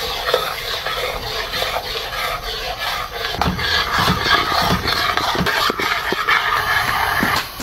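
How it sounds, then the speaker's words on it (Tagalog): A spoon scrapes and stirs a seafood mix with Sprite in a pot, giving a steady rasping, rubbing churn with scattered knocks against the pot, close and continuous with no talk. "Haluin lang natin siya."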